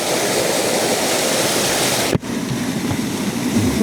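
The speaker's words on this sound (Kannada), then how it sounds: "ಇದು ಜೋಗ ಜಲಪಾತ" A steady, powerful roar of rushing water from Jog Falls fills the clip, broken by one brief dropout near the middle.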